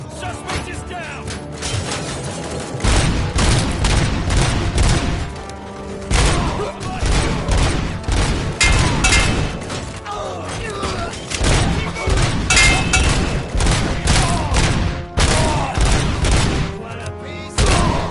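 Heavy, continuous gunfire and impacts in RoboCop: Rogue City, loud rapid volleys with thuds and crashes layered over a busy combat soundscape, with voices shouting intermittently.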